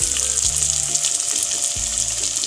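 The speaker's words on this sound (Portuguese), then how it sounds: "Deixa fritar agora, não mexe, deixa ele quietinho" Breaded chicken deep-fries in hot oil with a dense, steady bubbling sizzle, loud and close, under a low hum with a few dull thumps.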